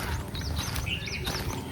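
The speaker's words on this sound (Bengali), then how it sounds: "সবচেয়ে ভালো লাগছে সারাদিন ধরে পাখির ডাক।" Birds calling in a rural Bengal village in the afternoon, a few repeated short rising chirps over soft outdoor ambience, brief and moderately near.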